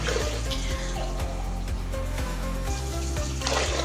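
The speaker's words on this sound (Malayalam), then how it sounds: "ബക്കറ്റ് നിറച്ച് വെള്ളം ഒഴിച്ചു കൊടുക്കുക" Water poured into a bucket to dilute neem oil for a garden spray, a steady close splashing gush with a brief louder burst near the end and no talk.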